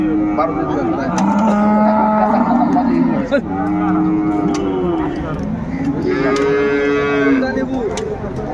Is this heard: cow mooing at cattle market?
yes